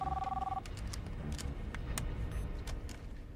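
A telephone rings in a basement in a TV episode, a brief two-tone electronic ring at the start followed by scattered clicks and knocks in a quiet room.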